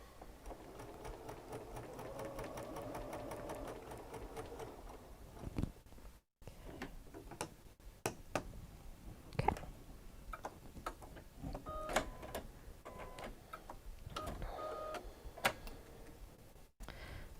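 A sewing machine joins quilt units in a steady, quiet whir, broken by brief pauses and clicks from handling the fabric.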